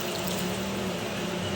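Water being poured into a pot of pork kaldereta made with boneless pork, a steady close-up gush of liquid running without a break.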